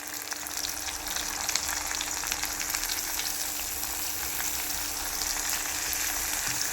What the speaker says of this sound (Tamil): தக்காளி ஆட் பண்ணிவிட்டு நல்லா ஃப்ரை பண்ணி விடுங்க, வதங்கட்டும்.